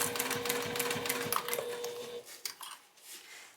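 A home sewing machine stitches fabric for a travel pouch in a rapid, steady mechanical chatter up close, then stops partway through, leaving faint clicks and handling sounds.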